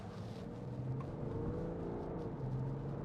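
2016 BMW 530d M Sport Touring diesel engine pulling under acceleration from inside the cabin, a muted low rumble with rising engine tones, fairly quiet and steady, no talk.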